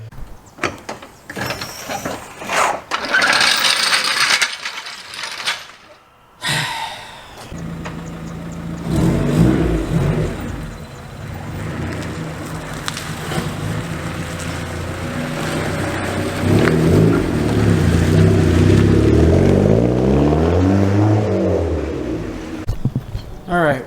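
A Honda Prelude's engine revs and pulls away, rising and falling in pitch through shifting gears, loud and close inside the car, with door and handling noises early on and a voice talking over parts of it.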